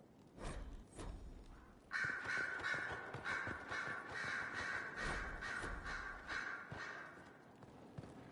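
Crows cawing in Dragon Age: Inquisition, repeated harsh caws layered over one another after a brief quieter start, fairly loud and continuous with a few soft footstep-like knocks.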